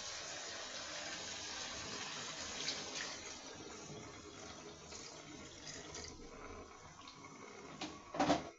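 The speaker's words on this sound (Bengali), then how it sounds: "এখন আমি এখানে পানি দিয়ে দিব।" Water poured from a vessel into a cooking pot while preparing a fish curry, a steady, fairly quiet splashing stream running throughout, ending with a brief louder clatter near the close.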